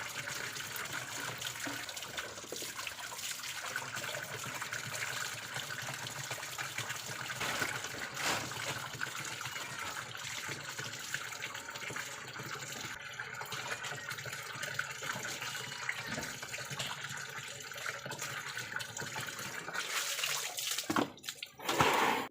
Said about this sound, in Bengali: এদিকে আমার জলের ড্রাম আর বালতিগুলো বোতলগুলো সব ভরা হয়ে গেছে।